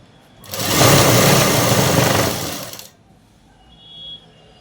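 A sewing machine stitching the side seam of pants, one loud continuous whirring run of about two seconds, then a short softer burst after a pause.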